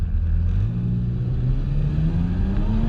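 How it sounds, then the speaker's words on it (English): A sports car, either a Honda NSX or a Ferrari 355, accelerates with a steady engine drone rising in pitch, heard close and loud from inside the cabin with no talk. "Feel the engine."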